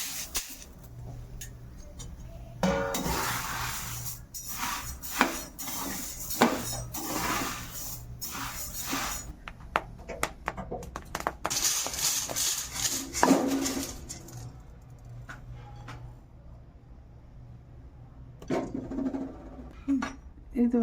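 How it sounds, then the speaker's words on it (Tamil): Wheat is dry-roasted in a pan for a multigrain health mix, with grains rattling and scraping against the metal in uneven bursts and clinks of a utensil, close up, followed by quieter stretches. "இப்போ அடுத்தது கோதுமை வறுத்துக்கலாம்."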